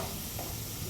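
Oil poured into a hot pan on a home stove before mustard seeds and cumin go in, giving a soft, steady sizzle over a brief moment, with no voices.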